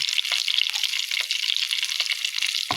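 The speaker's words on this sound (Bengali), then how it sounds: "সরিষার তেল গরম হয়ে গেছে, এখন দিম খালি জিরা" Cumin seeds fry in hot mustard oil with a steady, close crackling sizzle that runs unbroken and fairly loud the whole way, then cuts off abruptly at the end.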